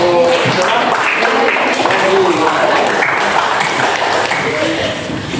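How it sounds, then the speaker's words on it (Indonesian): Classroom audience applause during a lesson quiz, steady dense clapping filling the whole stretch with some voices mixed in. "tepuk tangan untuk"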